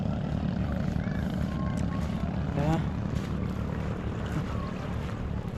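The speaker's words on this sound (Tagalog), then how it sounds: "Mga maliit na bangka o." Steady engine drone of small boats out on the water, mixed with wind rumble and faint chatter; one short whistling tone rises briefly midway.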